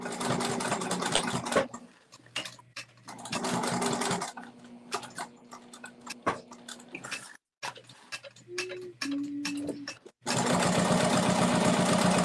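A sewing machine stitches a clutch wallet in several loud bursts of rapid whirring, broken by pauses filled with softer handling sounds and small mechanical ticks.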